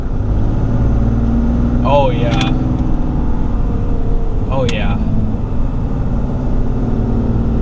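A RAM 3500 dually pickup with 4.10 gearing accelerates while towing a trailer up a 6% grade, its engine droning loudly and steadily inside the cab as a man briefly exclaims twice over it.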